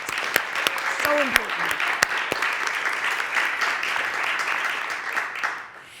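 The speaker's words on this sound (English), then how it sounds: "So big round of applause again." An audience at the 2025 Wege Prize awards show applauds loudly and steadily for several seconds, with scattered sharp claps on top. A speaker talks briefly over the applause, and it fades at the end.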